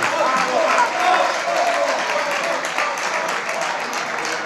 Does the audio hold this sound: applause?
yes